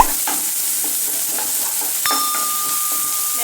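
Curry leaves dropped into hot oil for egg podimas, crackling and sizzling steadily with scattered stirring scrapes and a sharp metallic clink partway through, close and moderately loud.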